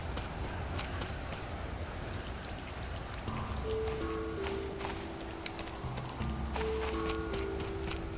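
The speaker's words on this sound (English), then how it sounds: "so while it's still raining" Steady, soft rainfall in the video game Stranded Deep patters throughout, with a few faint tonal chimes and blips layered over the hiss.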